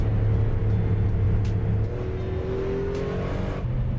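Volvo S60R engine revving in Assetto Corsa, a loud sustained drone whose pitch climbs and falls, with a brief dip near the end and no talking.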